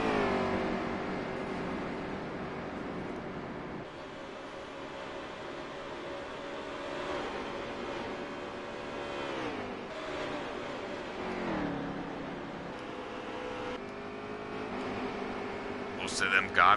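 Several race truck engines in the NASCAR Heat 3 video game fire back up after a wreck in turns 1 and 2, a steady layered engine drone with shifting revs and a voice talking over it.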